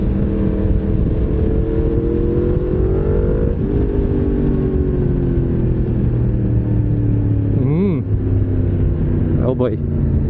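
Yamaha MT-10SP motorcycle engine dropping through a downshift on the road, a steady loud rumble with pitch falling then rising as revs are matched, while a rider speaks over it.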